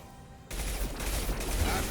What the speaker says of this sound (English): I should use the anti-shield gun.